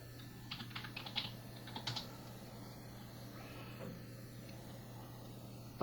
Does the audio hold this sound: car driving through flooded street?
no